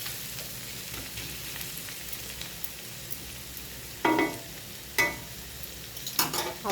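Fish frying in a pan, a steady close sizzle for the first few seconds, then three sharper bursts of scraping and stirring as the pieces are turned and spread out again, with no talking.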